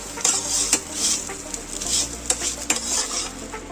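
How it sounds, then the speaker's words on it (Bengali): A utensil stirs and scrapes four eggs as they scramble and firm up in a wok, with repeated sharp metallic clinks and scrapes over a soft frying sizzle, close and fairly loud. "নাড়তে নাড়তে ডিমটা অনেকটা শক্ত শক্ত হয়ে এসছে"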